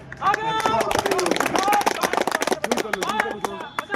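A police squad at drill training claps hands in quick, uneven bursts, sharp loud slaps layered over background chatter and shouted commands.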